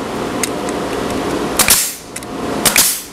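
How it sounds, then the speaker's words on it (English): Nail gun driving finish nails into wooden braces of an anvil table, two or three sharp, close pops standing out over a steady background hum. "As I fit the braces, I'm just shooting a couple of finish nails in it to hold it together"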